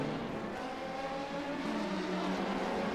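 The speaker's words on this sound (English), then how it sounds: "followed by a flurry of LMP2 prototypes now as they enter the last corner" LMP2 prototype race cars entering the last corner in a sim racing game at Road Atlanta, a dense, steady engine drone from several cars together, continuous and fairly loud, with no talking.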